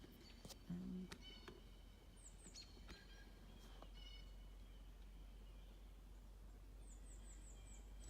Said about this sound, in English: And just listen to the birds.